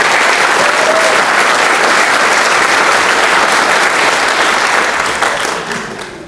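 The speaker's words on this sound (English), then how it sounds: "Let's have a round of applause for Officer Kelly Gottlieb and Dave Novelli" Sustained applause from the audience at a Vacaville Police Department awards ceremony honoring two officers, dense and loud clapping that holds steady before tapering off at the end.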